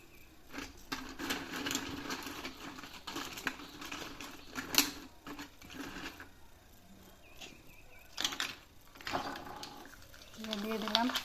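Potato chips fry in hot oil, giving a busy crackling sizzle with sharper pops scattered throughout, while a voice speaks at times over the cooking.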